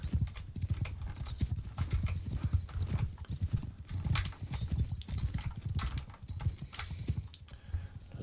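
Cavalry horses in the Bannerlord video game clip-clop steadily at a gallop, a dense, continuous drumming of many hooves close by amid battlefield din, with no one talking.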